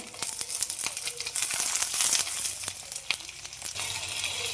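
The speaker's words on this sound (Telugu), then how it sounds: "కొద్దిగా కరివేపాకు వేసుకుందాం." Curry leaves crackle and sizzle in hot oil with a dense, bright hiss and quick popping bursts, close up and continuous throughout with no voices.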